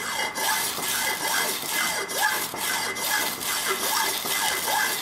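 A hacksaw blade cuts through a ferrocerium firesteel rod in steady back-and-forth rasping strokes, close and continuous, alone without talk.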